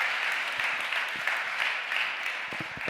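An audience gives a round of steady, dense applause. It holds at an even level throughout, with a few sharper individual claps standing out toward the end.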